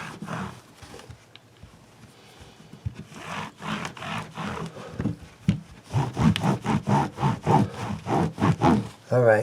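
Microfiber cloth rubbed briskly over the warmed fretboard of a Godin Artisan ST guitar, soft quiet swishes at first, then faster, louder rhythmic strokes in steady back-and-forth bursts.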